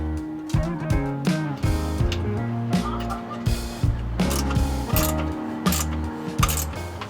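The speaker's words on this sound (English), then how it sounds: "They give you a self-ratcheting spanner." A self-ratcheting spanner clicks repeatedly while fitting parts to a 40-year-old vehicle, with steady, close mechanical ratchet clicks in an even rhythm.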